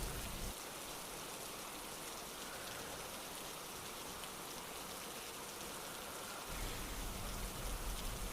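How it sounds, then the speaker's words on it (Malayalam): Heavy rain pours down steadily at night, a dense, continuous hiss of drops hitting surfaces. It stays loud and unbroken throughout with no voices, swelling slightly near the end. "മഴ തിമിർത്തു പെയ്യുന്നു"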